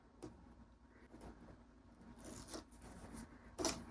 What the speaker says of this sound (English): I'm just gonna pull this tape off